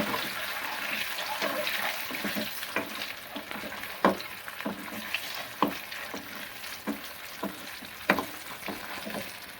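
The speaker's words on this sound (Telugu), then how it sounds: "గుడ్లు ఇలా వేయించుకోవాలండి." Eggs fry in a pan of oil with onions for egg curry, giving a continuous close sizzle with intermittent sharp clicks and scrapes from stirring.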